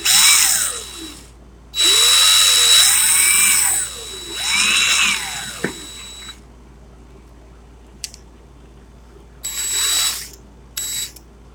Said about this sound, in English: the part in my drill broke off, so this isn't grabbing onto anything